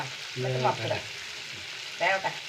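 Kozhuva anchovies sizzle as they fry in a pan, giving a steady crackling hiss, with two short bursts of voice-like tones over the frying.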